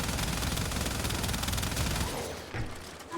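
Rapid, sustained turret gunfire in Warframe rattles steadily for about two seconds, then cuts off and leaves only faint scattered noise, with no voices.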